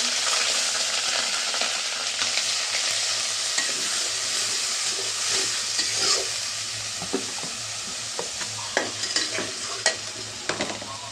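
Hot oil sizzles in a pan for a fish curry with new potatoes and beans. The frying crackle is dense and continuous, with sharper spits and pops growing toward the end, and no one speaks.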